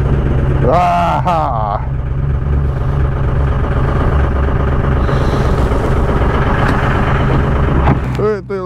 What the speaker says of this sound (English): You get the loader tractor cranked up, let it warm up